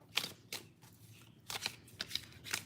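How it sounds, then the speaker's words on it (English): Quiet bursts of tarot cards being shuffled, several short riffling flurries separated by brief pauses, close and soft. "Let's shuffle."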